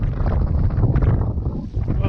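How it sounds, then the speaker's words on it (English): Loud wind buffeting the microphone on a jet ski out on the water while fishing, a constant low roar, with faint water and boat noise underneath. "the weather's taken a turn for the worst. It's pretty windy. Woohoo! Yeah, the wind's howling straight up through there."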